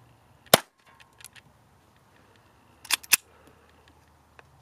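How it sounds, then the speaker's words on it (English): Aguila Colibri .22 rimfire rounds fire as a few soft, sharp snaps, one early and then two close together, with small mechanical clicks between them in a quiet setting. "the Colibri is so quiet that it's just neat to shoot it"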